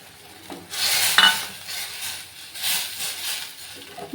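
Onion pulusu being stirred in a pot with rice flour mixed in, giving soft scraping and swishing strokes in bursts with a faint sizzle, close by and with no talking.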